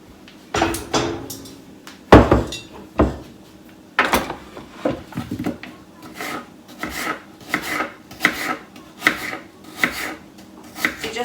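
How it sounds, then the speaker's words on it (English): Knife cutting peeled apples into half-inch pieces for an apple slab pie, a series of close, sharp chopping thuds on a board in an irregular rhythm, some spaced apart and others in quick succession. "after all your apples are peeled, you just want to cut them about half an inch thick"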